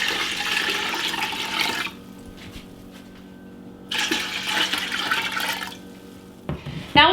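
Water gushes from a kitchen sink tap in two bursts separated by quieter gaps, a strong splashing rush followed by a brief clatter at the end.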